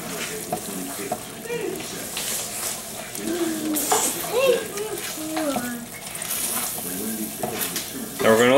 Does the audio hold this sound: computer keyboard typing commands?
no